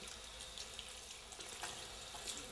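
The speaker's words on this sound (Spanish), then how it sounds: "El agüita que esté templadita, pero más bien tirando a fría, sobre todo en verano." Tap water runs steadily into a sink while a ferret is bathed, a faint, even splashing stream with no talking.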